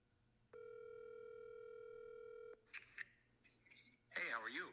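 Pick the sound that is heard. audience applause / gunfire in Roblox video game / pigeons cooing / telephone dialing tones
telephone dialing tones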